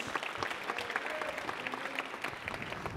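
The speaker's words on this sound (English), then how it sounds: "I want you guys to give Bemi a round of applause" Audience applause at a venture studio showcase event, steady dense clapping from a crowd lasting a few seconds.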